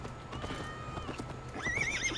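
A horse whinnies in the Assassin's Creed Valhalla video game, a rising and falling neigh near the end, over steady in-game ambience and hoof clip-clop.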